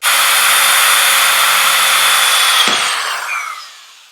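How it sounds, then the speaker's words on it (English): A power drill bores holes into an awning bracket, running in a loud, steady high whine close by before spinning down and fading out. "let's drill the holes"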